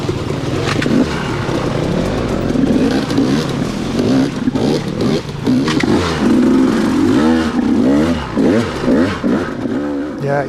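A Beta XTrainer dirt bike engine fires up and revs loudly and close on a trail near a stream, the motor surging and dropping in uneven bursts with some clatter and no voices.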